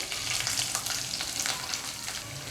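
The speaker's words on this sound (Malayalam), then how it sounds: "ഇത് നല്ലോണം ഒന്ന് വഴറ്റുക" Chopped ginger, green chili, curry leaves and onion sauté in a pan for egg thoran, a soft continuous sizzle with light stirring scrapes, moderately quiet and close.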